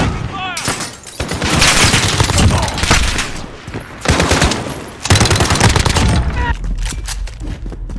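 Rapid submachine-gun bursts in Call of Duty: Modern Warfare, loud close automatic fire in several sustained volleys separated by brief pauses, with game effects between bursts.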